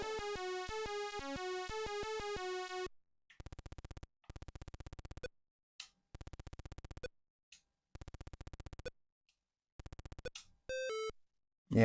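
Buzzy, synthetic 8-bit chiptune tones from the game Hunchback: a descending melodic run, then repeated harsh buzzing bursts separated by silences, imitating a bell ringing.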